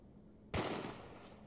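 A single sharp gunshot from the horror video game Ghost Files 2 bursts out loud and close after a quiet lead-in, then trails into a noisy decaying tail.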